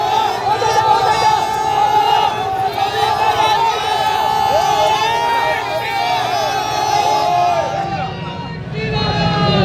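Political rally crowd of Trinamool and BJP supporters in Birbhum trading Joy Bangla and Jai Shri Ram slogans, a loud dense roar of many voices shouting and chanting continuously, close and sustained throughout.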